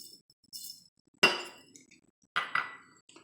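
Spices spooned into two small glass jars for pickled radishes, giving a few sharp glassy clinks close by, spaced apart, with quiet pauses between them.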